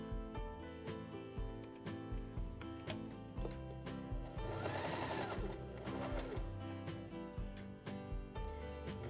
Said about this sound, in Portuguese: E agora eu vou costurar aqui a parte do fundo.